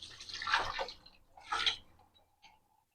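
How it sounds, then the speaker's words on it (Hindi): Water is poured into a pressure cooker holding boneless mutton and green beans, in two short, splashy pours that are close but quiet and then trail off into silence. "अब आखिर में इसमें मैं पानी ऐड करूंगी।"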